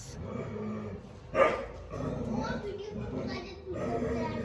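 A dog barks once loudly and close by amid children's chatter and playful voices outdoors, with talk continuing around it.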